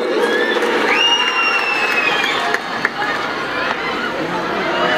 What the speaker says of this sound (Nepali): जोरदार ताली बजाएर स्वागत गरिदिनु न यहाँहरू सबैमा हार्दिक अनुरोध गर्दछु